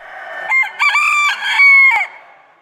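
Several roosters crow loudly and close by at a rabbit-breed show in Saxony-Anhalt, overlapping cock-a-doodle-doo calls rising and holding in bursts before trailing off into quiet.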